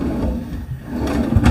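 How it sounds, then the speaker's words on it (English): A drawer in the kitchen island of a luxury fifth-wheel RV slides with a low rumbling glide, then a firmer thump as it shuts, heard up close and fairly loud. "Drawer below."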